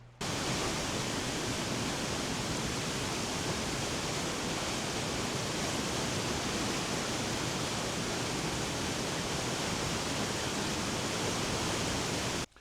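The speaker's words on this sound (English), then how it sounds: "that was the Weir Dam that is downriver from Norris Dam" Steady, loud broadband roar of water rushing over the Weir Dam on the lower Clinch River, constant and unbroken throughout.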